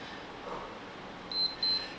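Two short electronic beeps from a workout interval timer sound in quick succession over quiet room noise, clear but not loud.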